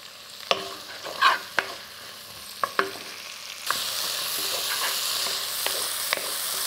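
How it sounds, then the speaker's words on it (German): Soup vegetables sweat in sunflower oil in a pot, giving a soft steady sizzle broken by a few sharp spoon clicks against the pot, with the hiss swelling louder in the second half. "ich habe jetzt hier schon mal ein bisschen Sonnenblumenöl in meinen Topf gegeben und das Suppengemüse, das komplette, das lasse ich da jetzt ein bisschen anschwitzen"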